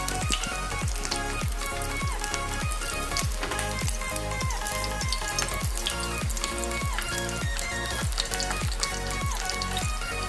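Pork pieces frying in their own rendered fat in a pan, a dense, continuous sizzle and crackle close up, with rapid popping spatters throughout and no voices.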